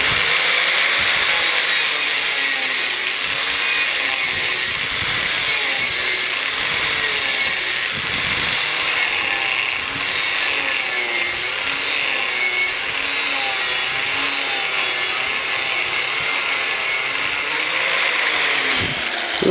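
A metal pipe is cut by hand with a saw, a loud close rasping stroke repeated in a steady rhythm for the whole stretch, with no talk.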